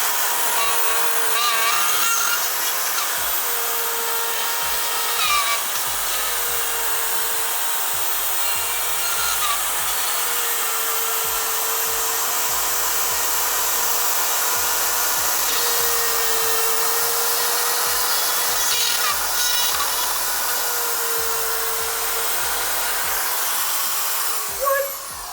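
A hacksaw cuts through drywall held with liquid nails, making a continuous gritty rasping scrape that runs steadily for over twenty seconds, close and without talk.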